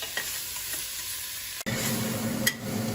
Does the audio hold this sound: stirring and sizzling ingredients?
yes